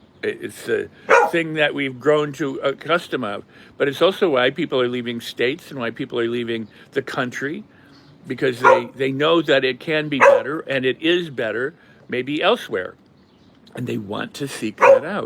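A pet dog barks and yips playfully in a room while someone speaks continuously close to the mic; the short barks are mixed in and partly buried under his talking.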